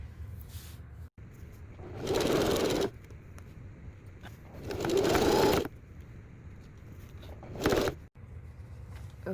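A sewing machine stitches the shoulder seams of a mock-up Victorian men's shirt in three short bursts of rapid mechanical whirring, each a second or two long, separated by quiet pauses with faint handling noise.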